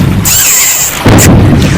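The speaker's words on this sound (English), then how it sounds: "Look, babe, fireworks." Cartoon fireworks bursting, a bright whistle followed by a loud booming explosion, close and dominant with no talk over it.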